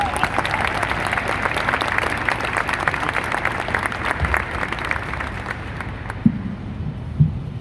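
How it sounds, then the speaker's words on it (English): An outdoor audience at a military change of command ceremony in California applauds after a national anthem rendition, with steady dense clapping that tapers off into a few scattered claps. "So one more round of applause for Carol."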